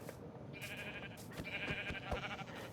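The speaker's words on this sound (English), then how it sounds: "we have found a sheep, which is really important" Sheep bleating in the Minecraft video game, two or three short nasal bleats over a steady low background rumble, fairly quiet.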